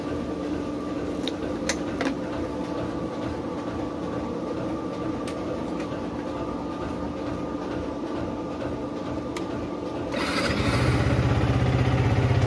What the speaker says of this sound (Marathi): गाडीला आपण कोल्ड स्टार्ट करूया.